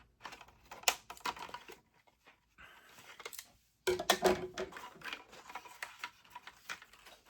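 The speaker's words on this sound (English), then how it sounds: "let's go ahead and use the scissors to get this guy released off this card" Scissors snip and rustle as a rubber mask package is cut free from its cardboard backing card, a close series of irregular clicks and crinkles with short pauses, no talking.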